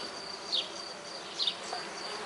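A queenless honeybee colony at a hive, a dense steady buzzing drone with a couple of brief louder swells as bees pass close.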